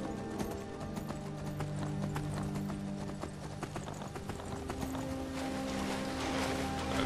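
Steady clip-clop of horse hooves trotting at a brisk, even rhythm in the video game Skyrim, with a horse whinnying and a music-like background underneath.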